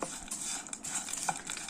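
Dried shrimp fry in a pan with very little oil for theeyal, a faint, soft sizzle broken by light stirring scrapes and a few clinks of utensils.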